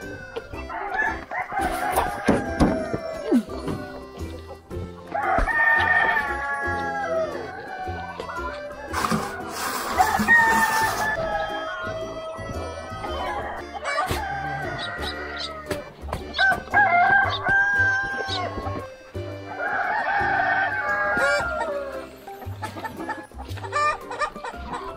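Chickens on a farm raising thousands of chicks cluck steadily while a rooster crows several times, loud and close, the calls overlapping continuously throughout.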